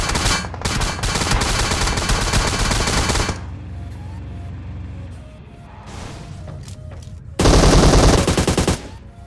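Heavy gunfire aimed at a BRDM vehicle in a battle royale game: loud rapid automatic bursts fill the first few seconds, fainter shots follow, then another close, dense volley near the end.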